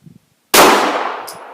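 A Springfield XD 9mm pistol fires a single loud, close shot at a target on a shooting range, with a sharp crack that rings and fades over about a second.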